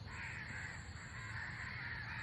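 Crows caw repeatedly at a steady pace under a constant background hiss, faint and somewhat distant, with no voices present.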